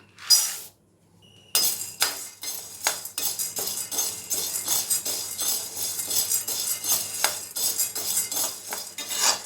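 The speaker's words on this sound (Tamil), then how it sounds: "ஒரு கடாய் வச்சுட்டு ஹீட் ஆனதும் பொட்டுக்கடலையை ட்ரையாக வறுத்து எடுத்துக்கலாம்" Roasted gram (pottukadalai) is dry-roasted in a hot kadai for laddu, with a spatula steadily scraping and rattling the dry chickpeas against the metal pan in close, busy, continuous strokes after a brief pause.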